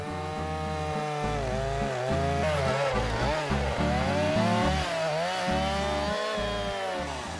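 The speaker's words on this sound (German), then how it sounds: "ein Mann und seine Kettensäge vor einer großartigen Bergkulisse." A chainsaw runs continuously outdoors against a mountain backdrop at the Wilder Kaiser, its engine buzzing loud and close with rising and falling revs as it cuts.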